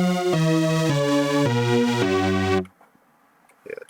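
A descending counter-lead played on a bright super saw organ synth patch in a chaotic beat production, sustained harmonic stepped notes for about two and a half seconds, then cutting out to near silence with a faint tail.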